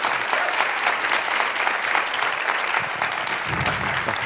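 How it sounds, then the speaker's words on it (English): Conference audience giving sustained applause for young refugees, a full, even roar of many people clapping throughout, with a low thump or shuffle near the end. "So let's just give them all a big round of applause."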